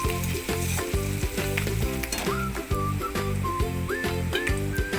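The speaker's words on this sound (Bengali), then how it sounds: "পেঁয়াজ এবং লঙ্কা হালকা ভাজা হলে তাতে হলুদ এবং লঙ্কার গুঁড়ো দিয়ে আর একটু" Onion and green chili fry in oil with turmeric and chili powder, a dense, steady sizzle with rhythmic scraping and stirring clatter throughout, close and fairly loud, with no talking.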